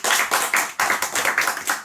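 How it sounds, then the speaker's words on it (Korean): Audience of children and adults clapping in welcome at a Sunday school Bible lesson on Noah's ark, a close, steady run of dense hand claps with a brief pause partway through, no talking. "박수로 환영합시다"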